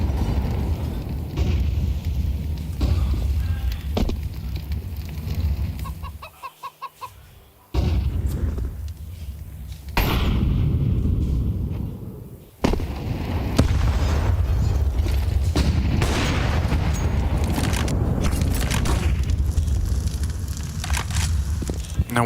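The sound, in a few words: grenades exploding on B site in Counter-Strike video game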